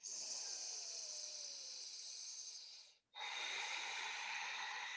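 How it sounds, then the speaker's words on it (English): A long, deep breath during a vinyasa yoga flow: a loud, close, airy inhale of about three seconds, a brief pause, then a strong exhale, with no talking. "So take 1 more deep breath here."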